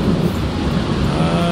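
Rain falling in The Sims 4 during a thunderstorm, a loud, dense, continuous hiss with low rumbling underneath throughout.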